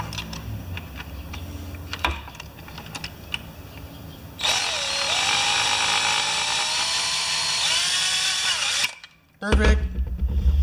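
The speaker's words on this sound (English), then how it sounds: "Now I wonder if I can drill that last one from the easy side." A power drill bores out a rivet while a new engine goes into a John Deere JS25 mower, whining steadily at close range for several seconds before winding down; light clicks and handling noises come before it.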